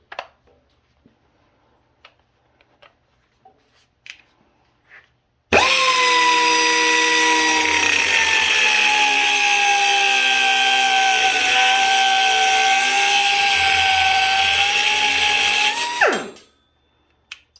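A Harbor Freight Chief 4-inch extended air cut-off tool, fed by an air compressor, cuts loudly in one continuous high-pitched whine lasting about ten seconds, then spins down. Only faint handling noises come before it.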